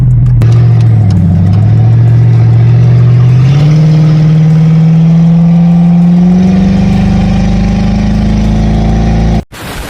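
A Crown Victoria P71 police car engine runs loud and close as the car turns, holding a steady low drone that rises slightly in pitch, then cuts off abruptly at the end.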